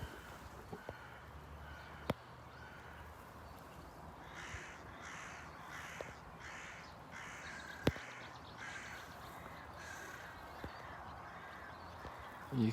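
Crows caw repeatedly outdoors near a lake after rain, harsh calls coming in an irregular series at moderate distance over faint ambient noise.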